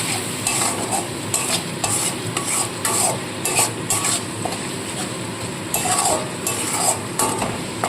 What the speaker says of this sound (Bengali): এটা আমি দিয়ে দিলাম ভালো করে কষিয়ে নেবো